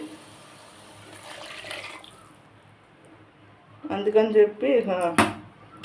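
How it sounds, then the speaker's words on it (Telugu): A glass of water pours and splashes steadily into a pot of drumsticks for a couple of seconds, followed by a person talking close by. "ఒక గ్లాస్ నీళ్ళు పోతాను."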